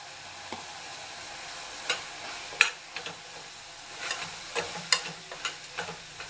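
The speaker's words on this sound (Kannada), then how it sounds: "ಇದೊಂದು ಸ್ವಲ್ಪ ಫ್ರೈ ಆಗಬೇಕು ಫ್ರೆಂಡ್ಸ್" Ground coriander and chilli powder fry in a pan, a soft steady sizzle broken by scattered scraping ticks of stirring, close and fairly quiet, no voices.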